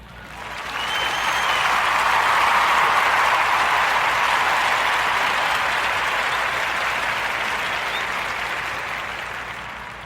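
A warm round of applause for two guests on a podcast swells within the first second, holds as dense, steady clapping, then gradually tapers off over about ten seconds.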